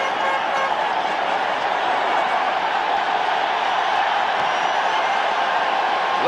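A large stadium crowd at a 1985 NFC Championship football game between the Rams and Bears applauds the Bears defense, a dense, steady roar of clapping and cheering filling the whole stretch.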